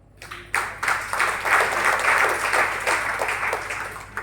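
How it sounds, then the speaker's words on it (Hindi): Audience applause at a Jain monk's spiritual discourse, a dense, steady wash of many hands clapping that swells quickly after a brief pause and holds loud before tapering slightly toward the end. "ताली क्यों बज रही है आपको?"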